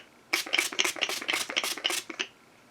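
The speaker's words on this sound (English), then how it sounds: "this is what I'm going to spray on my face today" Mario Badescu facial spray misted onto a face in a rapid series of about eight short, close hissy spritzes, evenly paced, with no talking.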